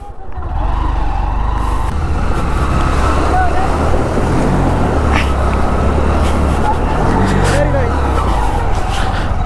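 A motorbike wades through a fast-flowing mountain stream in Ladakh, its engine droning under a loud, continuous rush of churning water and wind buffeting the microphone.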